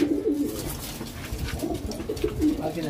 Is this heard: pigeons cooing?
yes